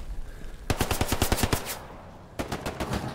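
Automatic gunfire in a Hill 400 king-of-the-hill scrim video game: a loud rapid burst of about a dozen shots, a short pause, then a second briefer burst, close and dominant.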